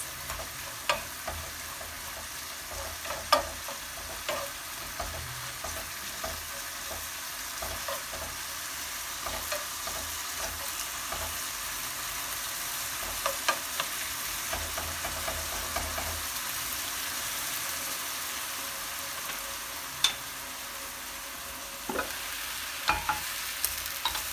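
Peppers, onions and carrot fry in a pan, a soft steady sizzle under intermittent scraping and tapping of a stirring utensil, quiet and continuous with no talk.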